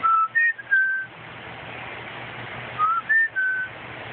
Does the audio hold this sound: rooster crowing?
no